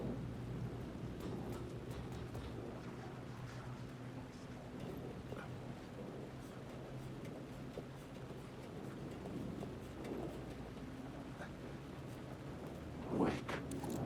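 Steady rain and low rumbling thunder from the video game Alan Wake II fill the whole stretch, a continuous wet hiss with a brief louder crack near the end.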